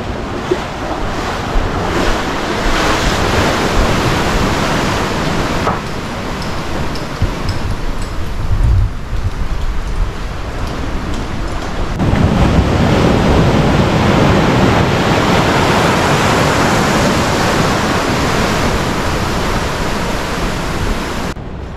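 Sea waves roll in continuously at Tajpur beach, a loud, dense surf roar mixed with heavy wind buffeting the microphone, swelling and easing with no voices.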